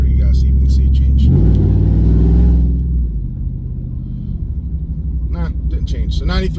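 A car fitted with an AWE exhaust, longtube headers and a cam rumbles loud and close, swelling in a deep rev before settling into a throbbing, lumpy idle. Someone talks over the engine.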